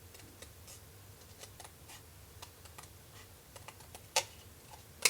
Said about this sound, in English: I'm going to do them with the scissors since it's here.